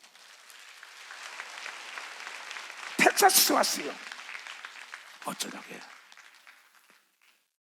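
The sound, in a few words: congregation applause in church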